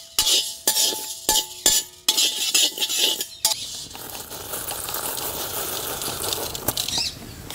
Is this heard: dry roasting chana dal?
yes